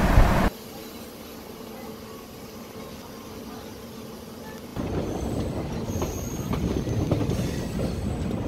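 A DEMU passenger train rumbles steadily along the rails between Thanjavur and Kumbakonam, the noise growing louder and rougher partway through with rattling wheels.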